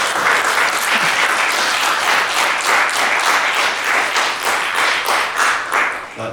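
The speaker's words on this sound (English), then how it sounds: "Give a round of applause first of all, please" A film festival audience gives loud, sustained applause at a Q&A, dense overlapping claps holding strong throughout and easing slightly at the end, with no talk over it.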